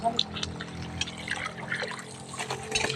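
Water is poured back out of a container at a backyard catfish tank, a close, moderately quiet trickling and splashing heard under several voices talking.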